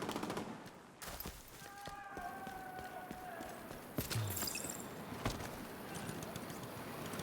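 A minigun fires in Division 2 as faint, distant rapid rattling, with a player talking throughout and other game sounds over it.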